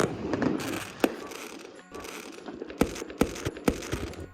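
Distant New Year fireworks over a bridge in Warsaw, Poland crackle and pop as a scattered series of sharp bangs among a soft crowd murmur, fairly faint overall.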